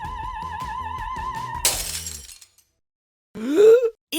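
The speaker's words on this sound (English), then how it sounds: "some opera singers are able to produce so much energy with their voice that they can make a crystal glass explode" Crystal glass shatters with a sudden bright crash at the end of a sustained sung tone, the fragments tinkling briefly before silence, then a short low groaning sound follows.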